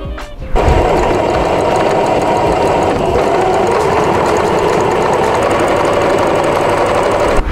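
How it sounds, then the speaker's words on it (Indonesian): A sewing machine runs steadily as it stitches around the edge of a puffy handbag, a loud, even mechanical whir held for several seconds after a brief start. "selanjutnya kita akan menjahit sekeliling ini"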